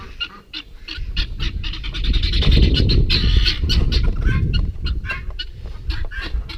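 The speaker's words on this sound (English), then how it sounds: "we also have all the guineas running around" Loud, busy squawking and honking from several guinea fowl close by, with harsh overlapping calls rising and falling throughout.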